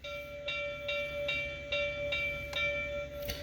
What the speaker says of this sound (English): So obviously we'll start off with the bell.